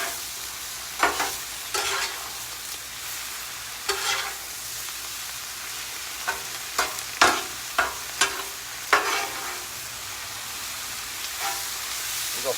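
Fried cabbage with sausage and fatback stirred on a Blackstone griddle, a steady sizzle under repeated scraping and clanking spatula strokes that come in irregular clusters, close up.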